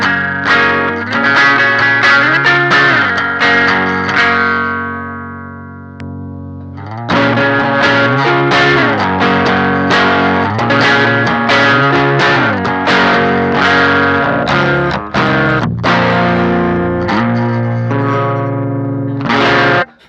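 An electric guitar plays chords and riffs through an Electrojunk BOOst treble boost pedal set to its treble voice, giving a loud, driven, slightly distorted tone with ringing sustain. One short pause breaks the playing, and no one speaks.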